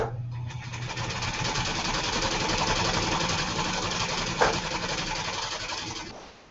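A sewing machine stitches quilt blocks for a sampler quilt with a steady, continuous mechanical whir. The motor hum runs close and fairly loud for about six seconds, then winds down at the end.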